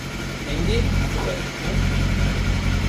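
A new motorcycle engine runs close by with a steady, rumbling drone as voices talk over it.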